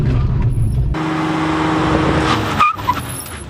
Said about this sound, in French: On va piler, on va voir qui s'arrête en premier.